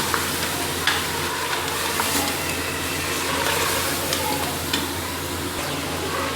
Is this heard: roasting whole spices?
yes